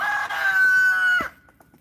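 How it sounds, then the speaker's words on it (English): A rooster crows once, loud and close, a single long drawn-out call that cuts off sharply, followed by quiet farmyard background. "So the chickens are officially fed."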